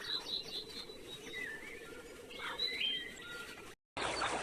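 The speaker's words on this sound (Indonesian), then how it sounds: "patung itu hidup dan berubah menjadi burung sungguhan yang bisa terbang" A clay bird statue coming to life as a real bird: soft chirps and short tweeting calls repeat over a faint hiss, followed by a brief silence and a sudden burst of noise at the end.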